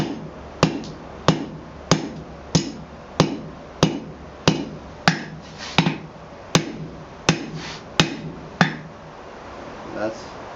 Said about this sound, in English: I grabbed a bigger hammer so that I could go slower.